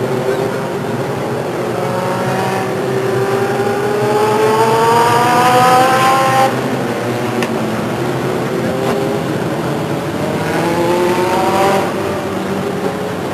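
Legends race cars roar around Stockton 99 Speedway, engines rising and falling in pitch as they accelerate past, loud and continuous with overlapping cars and a couple of sharp clicks.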